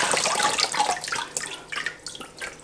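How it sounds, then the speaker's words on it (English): Cold tap water runs over potatoes in a kitchen sink, a steady close splashing rush with uneven surges as the potatoes are rinsed, and no voices. "So I'll just give it a rinse of cold water."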